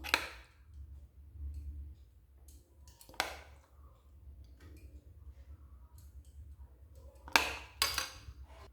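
Semolina batter spooned into oil-brushed bowls: a few sharp clinks of spoon against bowl between long quiet stretches, with a low hum beneath.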